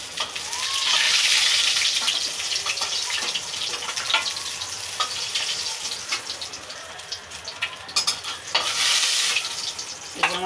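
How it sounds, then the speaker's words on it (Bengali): Rohu fish pieces fried in hot oil for a Bengali kaliya, giving a close, dense crackling sizzle with intermittent scraping and clinking of a spatula in the pan throughout. "মাছ ভাজা হয়ে গেছে, মাছটা এবার আমি তুলে নিচ্ছি। লাল লাল ভাজা হয়ে গেছে।"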